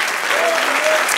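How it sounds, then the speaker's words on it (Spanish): A church congregation claps in a brief, dense burst of applause, loud and close, with a voice faintly heard over it. "Dele aplauso al Señor."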